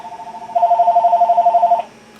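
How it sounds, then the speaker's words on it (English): A telephone rings with a warbling electronic tone, a short soft burst followed by a louder steady trill lasting just over a second, close and clear with no talking. "this is a busy phone night"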